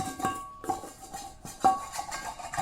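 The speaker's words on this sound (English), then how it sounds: "So now I'm just going to scrape as much as I can out of this bowl" Bread dough being scraped out of a bowl: a few quiet, close scrapes and light knocks of the utensil against the bowl, with no talking.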